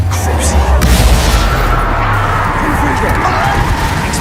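Confringo spell blast in the Hogwarts Legacy video game, a loud booming burst amid a busy wizard duel with crashing impacts and ongoing shouting voices.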